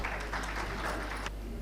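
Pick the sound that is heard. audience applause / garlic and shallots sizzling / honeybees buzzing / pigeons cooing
audience applause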